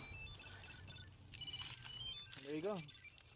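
A Tile Sport tracker rings outdoors with a short, bright, warbling chime melody, heard briefly near the end among light background noise and faint voices.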